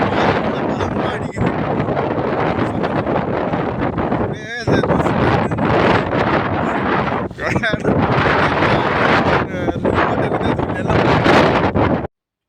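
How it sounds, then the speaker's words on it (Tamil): Strong desert wind roars continuously at close range, buffeting the microphone with broadband rumble and gusts throughout, with a voice talking underneath. "பேசவே முடியல, காற்று தான் பலமாக அடிக்குது"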